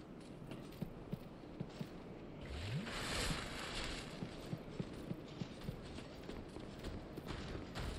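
Horse hooves clip-clop in the video game Dark Souls II, a steady series of sharp, evenly spaced hoofbeats over a soft ambient wash and a brief swelling whoosh midway.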